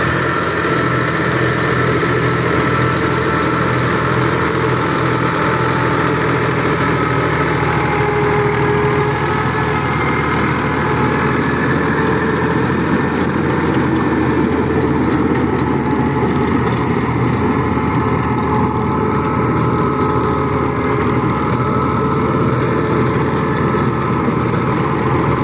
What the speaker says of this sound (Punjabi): ਸਾਊਂਡ ਜਿਹਾ ਕਰੋ ਟਰੈਕਟਰ ਦਾ